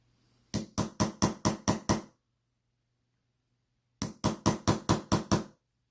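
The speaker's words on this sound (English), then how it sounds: "hit it with the pin punch tool and make sure it's fully seated" A metal pin punch taps a pin into an Invicta Subaqua Specialty watch bracelet in two quick bursts of seven sharp, evenly spaced clicks, separated by a silent pause, close and clean.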